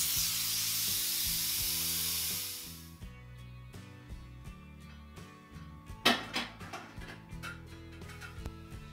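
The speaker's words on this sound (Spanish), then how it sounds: "quitamos la válvula y esperamos a que salga todo el vapor" A pressure cooker of pinto beans with chorizo venting steam after its valve is removed, a loud continuous hiss for about three seconds that then cuts off, leaving faint kitchen clatter and soft knocks.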